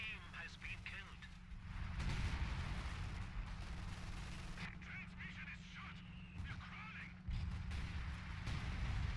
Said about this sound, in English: Ghost Commander units coming in, calling in artillery on the VP.